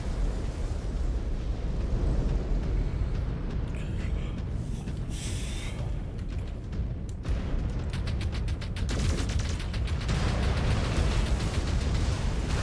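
Explosions in a mech combat video game: heavy, rumbling blasts and crackling bursts over a dense, steady roar of machinery and weapons fire, with some faint radio-style voices.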